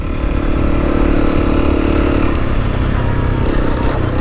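A Honda CRF300L Rally motorcycle engine runs steadily and loudly up close, a continuous even drone that holds the same level throughout.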